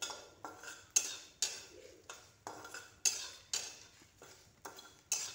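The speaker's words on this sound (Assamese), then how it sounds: "মই এইখিনি মছলাখিনি সেই গোন্ধটো অহালৈকে ভাজি ল'ম" A spoon scrapes through spices frying in a pan for olive pickle. Regular quiet scraping strokes come roughly once a second, close but faint, with no speech.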